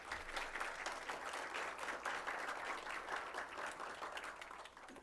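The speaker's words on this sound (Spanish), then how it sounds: "Un aplauso, por favor." Audience at a panel discussion on social and political mediatization clapping steadily, a moderately loud, even patter of many hands lasting a few seconds and fading slightly at the close.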